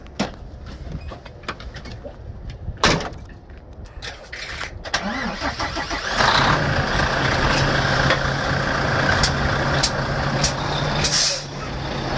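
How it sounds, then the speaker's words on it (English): A big diesel semi tractor idles with sharp clicks and air hisses, then its engine swells into a steady, louder rumble as it pulls forward during trailer coupling. "Now we're gonna put the tractor forward."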